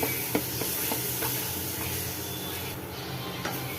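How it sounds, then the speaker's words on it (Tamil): Chana dal frying in oil in a kadai for Chennai-style vadakari, a continuous close sizzle with a few light scrapes and taps of a spoon against the pan, no voices. "இது நல்லா இந்த எண்ணெயிலேயே ஃப்ரை பண்ணிக்கலாம்."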